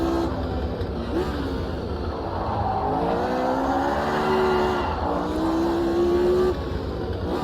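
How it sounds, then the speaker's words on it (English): Classic open-wheel racing car engine, a historic machine once driven by Graham Hill and Jim Clark, in the Automobilista 2 video game: a loud, continuous engine note rising and falling through gear shifts, with no talk. "this car was driven in anger by the likes of Graham Hill, Jim Clark towards the end of his career"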